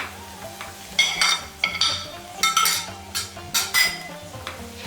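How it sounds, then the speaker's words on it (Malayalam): Chicken and potato cutlet mixture stirred in a pan, with repeated close scraping and clinking of a spoon against metal over a low sizzle, in uneven bursts. "നന്നായിട്ട് നമുക്കിതൊന്ന് മിക്സ് ചെയ്തെടുക്കാം"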